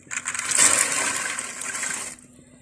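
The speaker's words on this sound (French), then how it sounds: "le moment est arrivé de mettre nos haricots roses dans notre cocotte" Pink beans tipped into a cooking pot for a meat, bean and carrot stew, a short wet pouring rush that swells and fades over about two seconds before stopping abruptly.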